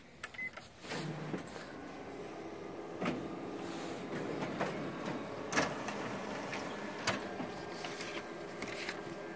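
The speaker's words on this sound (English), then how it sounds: "So I'm going to go ahead and print out the" A Ricoh MP 5002 office copier running to print a meter count page, a mechanical whir with clicks and rolling feed noises, steady and moderately quiet at close range.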